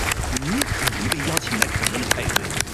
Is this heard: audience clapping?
yes